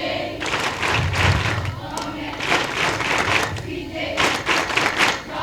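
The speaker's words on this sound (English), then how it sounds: "Form 4s of this school would like to clap for you." Form 4 students at Chuka Girls high school clap together in a hall during the Chief Justice's visit, a dense, steady patter of many hands in rhythmic surges with thuds, heard close and continuous.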